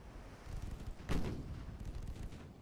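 Heavy naval guns fire on a light cruiser in the Ultimate Admiral Dreadnoughts warship game, with one sharp, loud boom near the middle rising over a steady low rumble of battle ambience.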